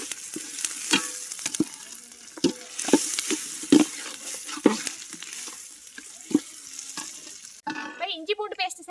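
Ginger garlic paste sautés in a pan with a continuous sizzle, broken by repeated scraping and clanking strokes of a spoon against the metal, before a brief change in sound near the end.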